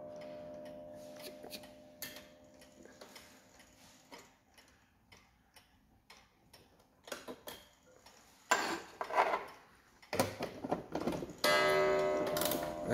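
Antique Japanese mechanical pendulum wall clock with a brass two-winding-hole movement, ticking steadily in a quiet room, with some louder clicks and handling clatter toward the end.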